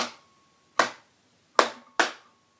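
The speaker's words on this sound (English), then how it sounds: "okay, you clap" Hands clap a simple rhythm, four sharp, close claps with uneven spacing: one, a pause, then three more, the last two close together, in a quiet room.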